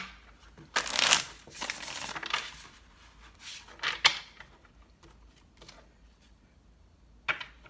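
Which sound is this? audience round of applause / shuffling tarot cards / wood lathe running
shuffling tarot cards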